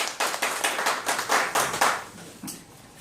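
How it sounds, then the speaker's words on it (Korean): A lecture audience clapping hands together, a short burst of brisk, fairly close applause with distinct individual claps in uneven rhythm, tapering off near the end without talk. "여기서 박수를 한번 치죠."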